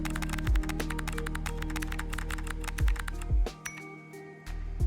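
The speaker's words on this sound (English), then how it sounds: "I could listen to these typing sounds all day" Rapid computer keyboard typing in a cozy typing game, a dense run of crisp clicking keystrokes up close with a few heavier thuds mixed in, the clicking thinning out near the end.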